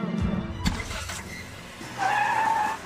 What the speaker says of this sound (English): nice work from stunt driver Rob there. He's kangarooing to make it look like Dom is driving for the very first time